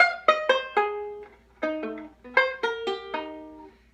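A banjo is picked in a quick rolling middle, index, index, thumb pattern, bright plucked notes ringing out clearly on their own, several short repeating phrases.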